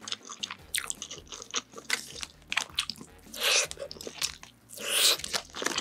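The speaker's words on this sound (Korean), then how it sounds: "치즈 에그롤. 달걀말이 안에 치즈가 들어가 있는 거예요." Close, crisp bites and crunchy chewing on a convenience-store cheese egg roll filled with cheddar, with repeated crunches and a couple of louder bites, no talking.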